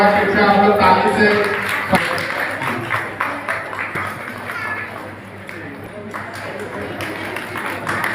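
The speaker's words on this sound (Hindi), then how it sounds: "जोरदार ताली के साथ हमारे दीदी का हौसला अफजाई करें।" A rural community camp crowd in India claps in a dense, continuous patter that starts loud and gradually thins over several seconds, with a few sharp claps standing out.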